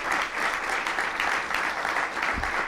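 A dinner audience at a Democratic business council event gives President Clinton sustained, dense applause, a steady wash of many hands clapping without a break, with no talk over it.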